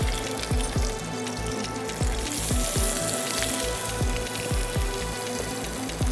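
Hilsa fish fillets hitting hot mustard oil in a pan, a steady bright sizzle with repeated crackling pops and spits throughout, close and loud with no talking.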